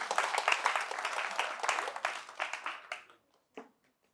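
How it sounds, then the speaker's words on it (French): An audience at a French-language talk show taping breaks into brief, fairly faint applause that thins out after about three seconds, with a last scattered clap near the end. "on peut l'applaudir s'il vous plaît"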